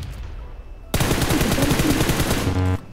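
Sudden loud burst of automatic gunfire in PUBG Mobile, rapid shots cutting in after a quiet moment and continuing for nearly two seconds before stopping abruptly.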